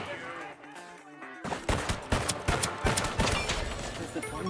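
Automated turret in the spy shooter Deceive Inc opens fire after a brief quiet moment, unleashing loud, rapid bursts of gunshots that keep rattling on for several seconds.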